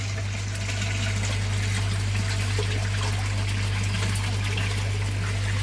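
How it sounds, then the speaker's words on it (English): Water trickles and flows steadily in a home fish tank after a fitting drops back in, a constant close wash of liquid under a low pump hum, with no talking. "You see it's got a nice flow in the water"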